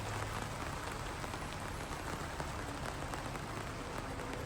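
Steady, dense rain falls hard and continuously on surfaces close by, a uniform hiss with no pauses and no voices.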